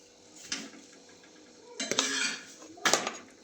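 Kheer with jaggery, dry ginger and chopped coconut being stirred in a pot, with three bursts of metal spoon scraping and clinking against the pot between quiet gaps.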